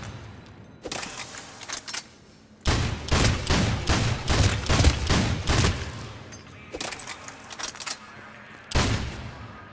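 Heavy weapon gunfire in Mass Effect 3, firing in loud bursts of rapid shots with short gaps between them, close and punchy with a booming low end.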